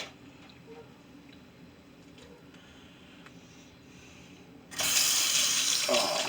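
Tap water suddenly gushes into a kitchen sink for hand rinsing while pulled pork is being prepared, a loud steady splash that starts abruptly after a few seconds of quiet room tone.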